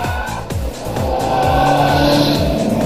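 A Vauxhall VX220 sports car corners hard with its rear end sliding out, the engine roaring loudly and tyres squealing and skidding continuously for a few seconds, close and without speech.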